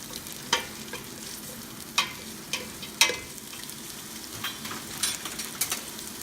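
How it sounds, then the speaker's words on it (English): Chopped onions sauté in a pan for Filipino beef nilaga stew, a soft steady sizzle with occasional scraping stirs and light clinks, quiet and close, with no talking. "And let's saute this for 1 minute"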